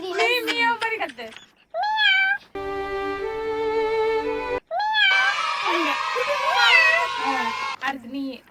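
Several people take turns imitating a cat's meow with their voices during a blindfold drawing game, giving rising, wavering mews and one long drawn-out nasal meow, close and loud, with short gaps and chatter between.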